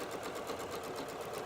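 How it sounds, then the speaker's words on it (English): A sewing machine stitches steadily with a quarter-inch presser foot along a marked line while piecing flying geese quilt blocks, a fast even close whir with no pauses. "so I can just sew right along with that 1/4 inch foot riding right on the line"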